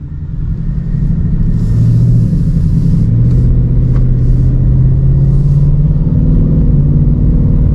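A Ford Mustang GT with the 5.0 V8 accelerating on the road, a loud, deep, sustained engine rumble heard from inside the car that pulls up steadily over several seconds without a break.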